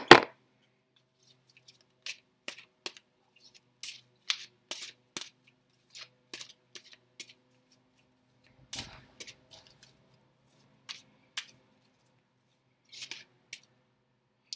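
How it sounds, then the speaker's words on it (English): Angel guidance cards are shuffled and handled near, giving sharp, irregular papery snaps and flicks in short bursts separated by quiet gaps, with no voices. "Let's take one of Doreen Virtue's daily guidance from your angel cards, because why not"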